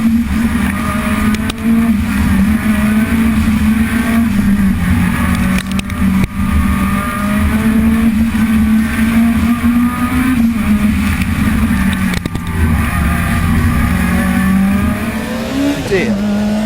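A Group B rally car, under 900 kilograms and around 500 horsepower, runs flat out with a loud, sustained engine roar and shifting pitch, brief gear-change dips and a rising rev near the end, heard from inside or close by.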